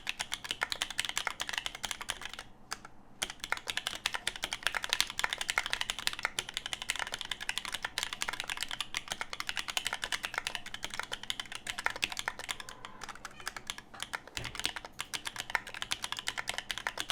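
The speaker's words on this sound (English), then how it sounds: "you wanted a typing test, so you're gonna get a typing test" Bakeneko mechanical keyboard typed on continuously, a dense, brisk run of sharp key clicks and clacks with brief pauses, picked up close by a desk mic.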